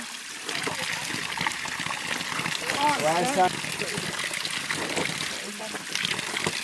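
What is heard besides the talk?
cold glacier water running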